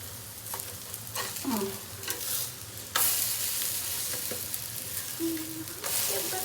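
Snack shallow-fried in a little oil, a steady broadband sizzle with scattered spatula scrapes and stirring clicks, moderately loud and close, no talking.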